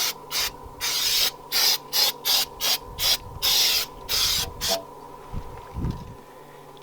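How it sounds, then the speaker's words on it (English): Camco slide-out lube sprayed onto the rack and wheel of an RV slide room: a series of sharp aerosol bursts in an uneven rhythm, some short, some longer, then a few low knocks and clunks. "you're just going to spray the bottom of the wheel."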